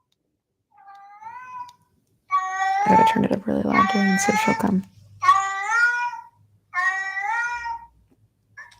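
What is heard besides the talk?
played recording of cat meowing sounds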